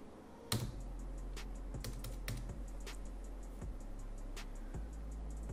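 Rapid keystrokes on a computer keyboard, a steady run of close, crisp clicks as a Docker command is entered, with a few louder key hits over a faint hum and no speech.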